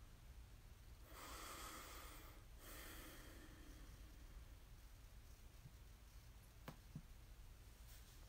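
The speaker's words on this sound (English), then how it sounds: "Take a deep breath." A single slow, deep breath drawn in quietly through the nose during a calm morning prayer, soft and close, then faint stillness with a couple of small clicks.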